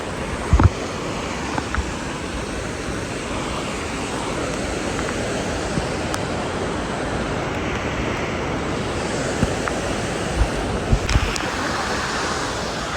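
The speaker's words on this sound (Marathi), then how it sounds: "खूप फ्लो आलाय पाण्याला." A swollen river near Kedarnath rushes in a strong, constant roar during heavy rain, close and loud, with a few faint knocks and no talk.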